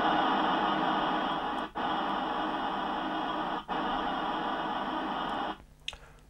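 A Commodore 128DCR with a faulty SID chip emits a steady static hiss during a diagnostic test instead of tones, broken by two brief pops before cutting off near the end.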